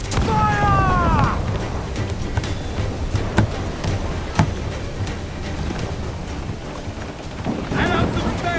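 Ship cannons fire a broadside in Assassin's Creed 4: Black Flag's pirate naval battle, a run of dull booms and sharp cracks over steady wind and sea noise, with shouted voices at the start and end.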